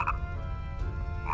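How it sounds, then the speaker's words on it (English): Frog croaks in the Oogie's Revenge secret chapter Deadly Nightshade, a dense low rumbling chorus of croaks running steadily throughout with a brief brighter game sound at the start and end. "there's frogs all up in here protected by an electric barrier for God knows why"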